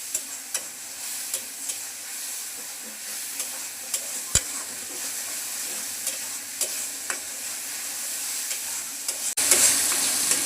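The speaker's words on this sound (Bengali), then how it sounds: "এখন মশলাটাকে ভালোভাবে কষিয়ে নেব।" Spice masala of coriander and chilli powder is stirred and fried in a pan, giving a steady close sizzle with periodic scraping stirs and clicks, and a sudden louder hiss near the end.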